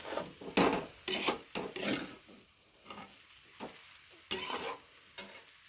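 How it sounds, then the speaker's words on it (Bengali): Food frying in a pan with salt being stirred in, bursts of scraping and rasping stirring strokes over a steady sizzle, loud and close, with quieter gaps between strokes. "ভালো করে ভেজে নিচ্ছি"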